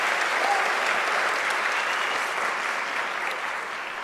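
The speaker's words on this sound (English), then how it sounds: "Give yourselves a round of applause." Students at a student preneurship indaba at UNISA give a sustained round of applause, a dense, even wash of many hands clapping that fills the hall and fades slightly toward the end.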